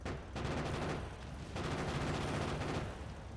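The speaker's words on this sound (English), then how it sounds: "The cannons just pick them off." Rapid bursts of automatic cannon fire from defensive turrets shooting at enemies in the Factorio video game, a dense continuous crackling barrage with brief pauses between volleys, loud and close.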